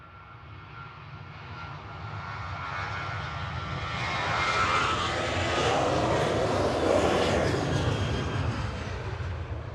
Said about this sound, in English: Easy from Nice coming over the threshold now.